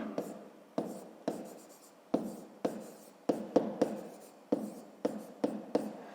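Pen writing by hand on paper while working a fifth-grade maths exercise, a close series of short scratchy strokes in an uneven rhythm, each stroke sharp at the start and quickly fading, with no talk.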